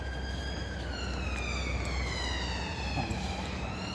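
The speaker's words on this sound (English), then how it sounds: "That's just an ambulance, guys, that's just flew past." An ambulance siren wails with a steady rising and falling tone as it passes, over a constant low rumble of traffic, with no talking.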